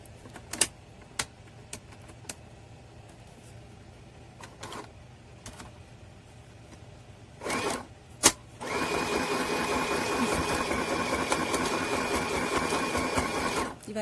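A sewing machine set to a straight stitch runs steadily and loudly for several seconds after a few quiet clicks and handling noises, finishing a seam on a homemade cloth menstrual pad.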